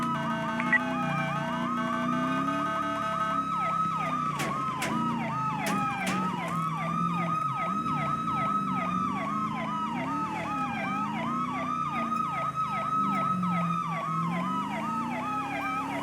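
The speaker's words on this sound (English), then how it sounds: "Can we get a siren check at 1101?" Police car siren from the San Andreas Highway Patrol in GTA V FiveM roleplay, cycling through wailing and yelping tones, loud and steady, close by, with no talking over it.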